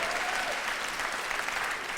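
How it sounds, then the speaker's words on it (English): A stand-up comedy audience claps loudly and steadily throughout, a dense continuous burst of applause with no speech over it. "you see how they're clapping?"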